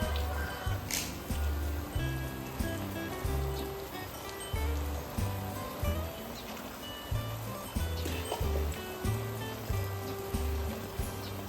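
Water from a shower splashes and drips outdoors in a steady patter with rhythmic low thumps of falling water, fairly close and moderately loud.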